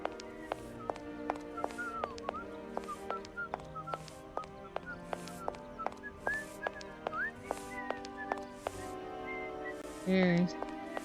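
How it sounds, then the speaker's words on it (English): A melodic whistled tune from a character in the video game Syberia Remastered, set in the town of Valadilène, runs over a steady ticking background with brief mechanical sounds near the end. "Who's whistling?"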